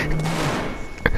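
Gunfire in a multiplayer shooter video game rattles out as a loud, dense burst of rapid shots lasting the whole brief moment, close and dominant.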